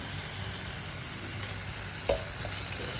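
Chopped tomatoes with salt fry in a pan for a dried salted fish dish, giving a soft, steady sizzle with a brief stirring clack partway through and no voices.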